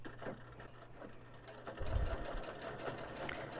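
A sewing machine stitches fabric for a beach bag, running steadily with a rapid mechanical chatter at low, close volume and a brief louder thump partway through.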